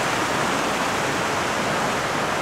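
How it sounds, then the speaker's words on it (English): A mountain stream near Chaiten Volcano rushes steadily past, a dense, continuous close-up wash of flowing water with no pauses and no voices. "Here we are, farther up the stream."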